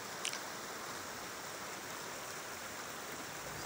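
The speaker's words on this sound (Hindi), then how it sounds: "दरिया है, कमराट का दरिया, ठंडा यक पानी" A cold river flows through the dense forest of Kumrat valley in Pakistan: a steady, soft, even rush of water, faint and continuous, with no voices.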